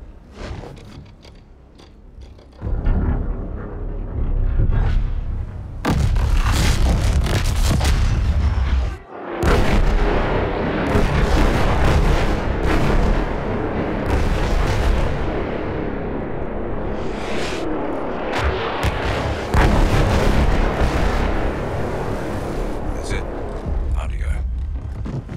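Dreadnought battleship guns shelling a beach in Battlefield 1, heavy booming salvos rolling into a long thunderous roar of artillery, with one sharp break and repeated deep blasts, under occasional voices.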